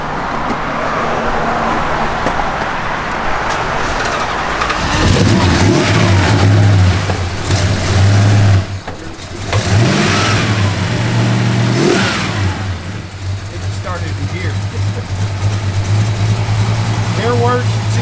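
A 1969 Plymouth Road Runner V8 cranks and fires up, settling into a deep, lumpy idle from a mild cam, then blips and revs loudly several times close by, with people talking over the engine.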